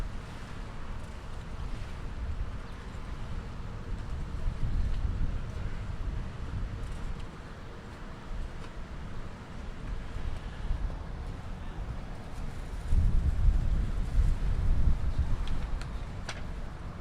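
Steady wind buffeting the microphone over open water during a men's slalom waterski run from a boat, a low broadband rush that swells and eases in gusts, strongest near the end.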